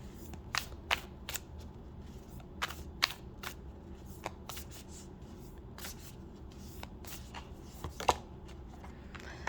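Tarot cards shuffled and drawn by hand, a run of crisp riffles and snaps scattered unevenly over a low steady room hum, close and fairly quiet, with no talking.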